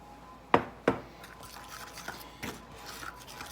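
A fork stirs buttermilk into biscuit dough in a bowl: two sharp clinks against the bowl open the stretch, followed by softer scattered taps and wet scraping, close by.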